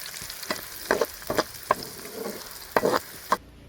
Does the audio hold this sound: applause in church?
no